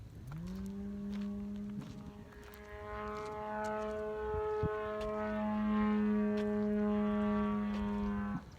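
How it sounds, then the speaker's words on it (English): A real piloted light plane flies overhead with a faint, steady, droning engine tone that rises in pitch, then holds for several seconds before cutting off, and no one speaks. "What I think is a plane is not an RC plane. I think that's an actual person in there."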